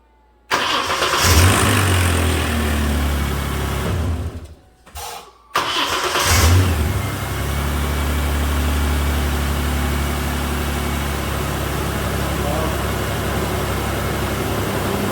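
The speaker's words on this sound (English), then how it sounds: "let's see if it starts from the ignition switch now" A 2007 Mazda B4000 pickup with a new starter cranks briefly, stumbles, then catches and settles into a steady, loud idle that runs on alone for about ten seconds.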